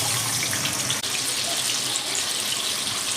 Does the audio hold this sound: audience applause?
no